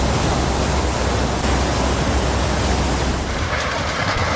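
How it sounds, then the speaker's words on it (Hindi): Floodwater in Kullu, Himachal, a steady, dense roar of rushing water that fills the whole clip, loud and unbroken, with no voices over it. "पानी का जोर, तबाही का शोर।"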